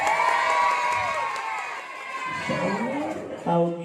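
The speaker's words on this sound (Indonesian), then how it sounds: "tepuk tangan buat ibunya." Crowd cheering and clapping for a mother at a Maulid sermon gathering in an Indonesian pesantren, a steady dense roar of shouts and applause that fades, with a voice speaking over it near the end.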